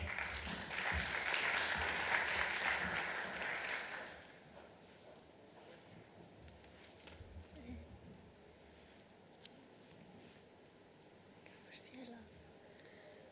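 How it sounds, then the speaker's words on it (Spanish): An audience at an academic panel on electoral campaigns applauds in a loud burst lasting about four seconds, then fades into quiet room murmurs and whispering. "Un aplauso,"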